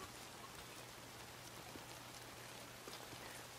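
Steady rain in the Days Gone video game, a dense even hiss of drops falling without pause, with a low constant hum beneath and no voices.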